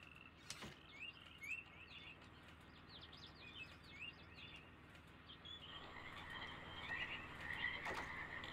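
A chorus of frogs croaks and chirps across a swampy area of the realMyst game, repeated close calls over a low ambient bed that grows busier and louder toward the end.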